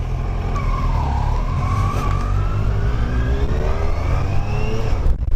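A Kawasaki Versys 1000 motorcycle engine pulling steadily while riding, with rising and falling rev tones over constant road and wind rumble, loud and continuous, with no talk.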